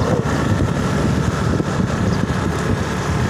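A steady motorbike engine rumble with wind buffeting the microphone, riding past crop fields including mung beans.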